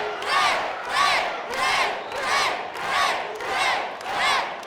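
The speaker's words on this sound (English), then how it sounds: "The crowd here, the sold out, standing room only crowd chanting the name of Rey Mysterio" A sold-out, standing-room-only wrestling crowd chants Rey Mysterio's name in a steady, loud rhythm, about six swelling repetitions roughly one per second, with no commentary over it.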